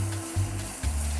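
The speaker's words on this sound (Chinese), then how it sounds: "落少少油啦，跟住咧爆香嗰啲紅葱頭" Shallots sizzle in a little oil in a small wok, giving a steady close hiss with a couple of brief swells as they fry, and no talking.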